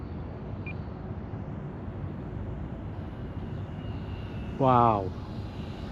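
A FlightLine OV10 Bronco RC model plane drones steadily in the distance as throttle is added, a broad continuous engine noise outdoors, and someone exclaims briefly near the end.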